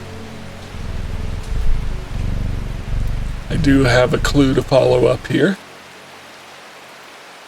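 Steady rain hisses softly as background ambience in the cozy video game Strange Horticulture. Someone talks over it partway through, and then the rain cuts off abruptly.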